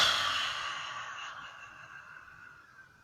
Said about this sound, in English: breathe out through the mouth with